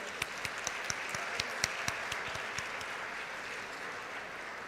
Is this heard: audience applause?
yes